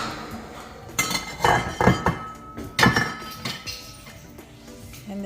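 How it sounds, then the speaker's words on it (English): A lid comes off a pot of arroz con pollo with a few close metallic clanks and clinks, loud knocks bunched together before the kitchen settles quiet. "now it's time to uncover"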